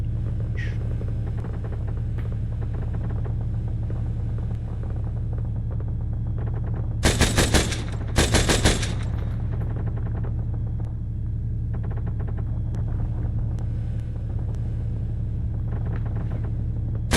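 Two short bursts of machine gun fire in the video game Arma 3 crack loudly over a constant low engine drone.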